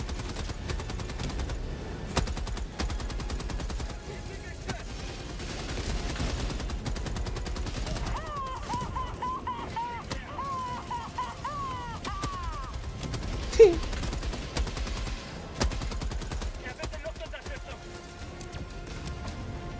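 Heavy machine gun bursts in a video game battle against tanks, rattling and fairly close amid constant combat noise, with a louder crack near the middle and someone talking over parts of it.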